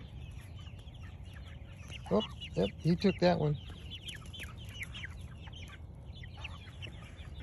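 Chickens feeding on cicadas outdoors, with a short burst of several loud, close clucks in quick succession amid faint background calls, while a person talks quietly.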